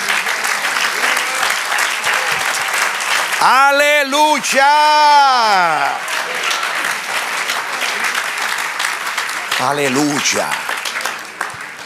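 Church congregation applauding, dense clapping throughout with a voice calling out loudly over it in the middle and again near the end.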